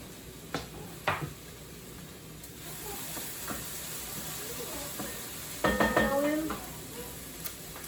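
Minced garlic and translucent vegetables sizzle in a pot for a veggie chili, with a soft steady hiss broken by scattered clinks and scrapes from a spoon stirring against metal.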